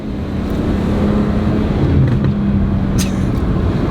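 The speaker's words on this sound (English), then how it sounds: "That's a 328 burbling naturally." A modded BMW 328i engine idles with a steady low burble, loud and close, with faint wind buffeting the microphone and no voices.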